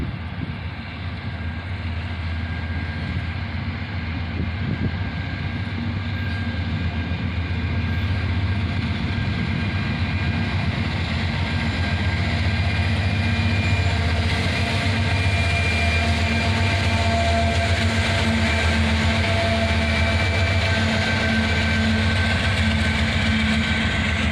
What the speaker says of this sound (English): Check that out, an AC44CW leads, followed by a shiny new CM44AH rebuild.